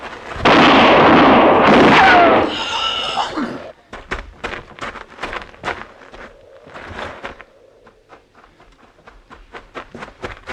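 Gunfire in an old-time radio Western drama: a loud blast and burst of noise at the start, followed by a string of sharp, rapid cracks and pops that gradually fade and thin out.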